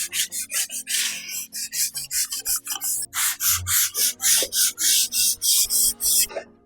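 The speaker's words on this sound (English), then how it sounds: "Let's just start sanding them." Hand-sanding wooden dresser base pieces, a steady series of about twenty rhythmic back-and-forth rasping strokes, close and loud with no talk.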